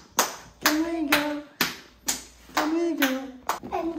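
Hands clapping in a series of sharp claps, roughly one every half second, mixed with a voice speaking between and over them.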